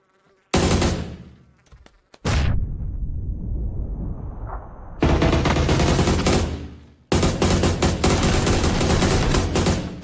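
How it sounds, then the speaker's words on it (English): Bursts of AK rifle fire in PUBG, loud and close, in long rapid strings with a brief pause between volleys and a fading tail after the first burst. "Snipe to the face, and then a full round of AK right to the guy's face."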